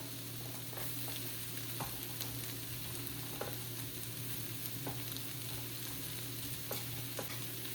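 Carrots and capsicum frying in a pan as they are stirred, a steady close sizzle with occasional soft scrapes from the spoon, no voices.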